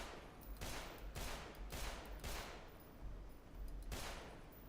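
Gunfire in the video game Black Mesa: Blue Shift comes in a run of repeated, fairly faint shots spaced about half a second apart, with a low rumbling bed beneath.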